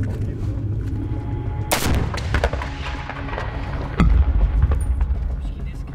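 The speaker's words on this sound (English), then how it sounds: "So there's a lot of incoming fire." Heavy incoming gunfire and explosive blasts during fighting with ISIS fighters, with a loud sharp crack near two seconds and another heavy boom at four seconds over constant rumbling background noise, with voices present.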